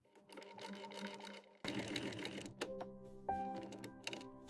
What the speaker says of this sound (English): Precision stitching ensures durability and flawless craftsmanship.